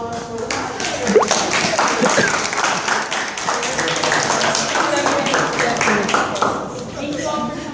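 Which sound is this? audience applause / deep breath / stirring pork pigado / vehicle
audience applause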